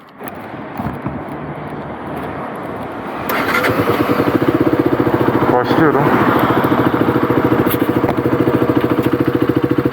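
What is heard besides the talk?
125cc motorcycle engine and exhaust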